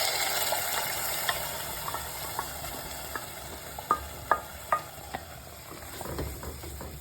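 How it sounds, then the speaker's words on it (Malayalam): Ground paste sizzling in melted butter in a kadai, a constant frying hiss with several sharp spatula scrapes and taps partway through, close and alone without talk. "നമുക്ക് അതിൻ്റെ അകത്ത് അരച്ചു വെച്ചിരിക്കുന്ന അരപ്പ് ഒഴിച്ച് കൊടുക്കാം"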